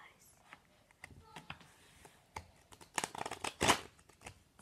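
A deck of playing cards is shuffled by hand, giving quick bursts of riffling and flapping that grow busier and louder toward the end, close up, with a voice talking quietly around it.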